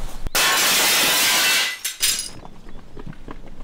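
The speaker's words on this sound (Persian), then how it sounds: "بازم یه تخم سگ دیگه شیشه رو شکست." A thrown stone smashes through window glass with a loud, sustained crash, followed by a brief second burst of breaking glass and small tinkling fragments settling into quiet.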